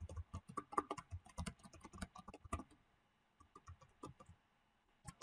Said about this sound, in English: And I'll type it again.